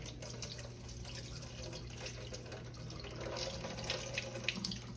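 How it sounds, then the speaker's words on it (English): Water draining off boiled Idaho potatoes in a kitchen sink, a soft continuous pouring and splashing that grows a little stronger toward the end. "Let me drain these off, y'all."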